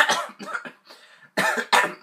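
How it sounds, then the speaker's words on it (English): A person coughs in a series of harsh, close bursts, first several short hacks, then two louder, longer coughs after a brief pause, with no talking. "I'm coughing on my spit"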